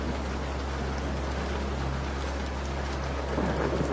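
Steady rain falls with a low, continuous rumble of thunder underneath, an even hiss without pauses and no one speaking.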